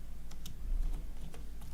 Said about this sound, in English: I am just typing here UK